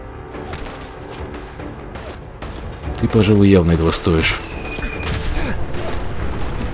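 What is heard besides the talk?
Fat Man launcher shot exploding in Fallout 4 video game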